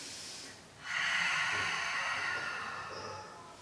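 A person breathes heavily during a Pilates exercise, a loud, close snorting exhale that swells after a brief pause and holds steadily, tapering slowly toward the end.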